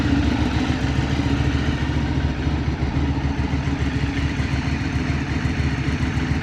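An engine chugs at a steady idle, dense and rough with a clattering beat from start to finish, close and loud with no voices. The motorcycle is a Honda X-ADV 750, Ducati 848 Streetfighter or SWM RS300R.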